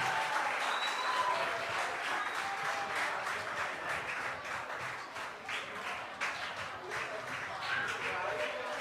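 Sustained audience applause fills the hall at a French-language evening competition event, a dense steady wash of clapping with voices mixed in throughout.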